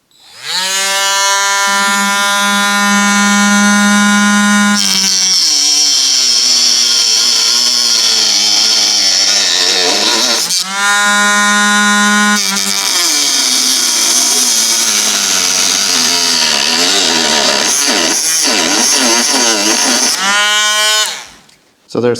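Rotary cutting disc slicing through model railway track where it crosses a baseboard joint, a loud, close, high-pitched whine that rises and drops over three long cutting passes.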